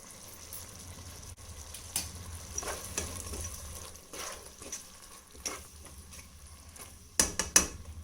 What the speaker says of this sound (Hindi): तो 2 से 3 मिनट इसको हम पका लेते हैं दही को। मैं इसको चला रही हूँ।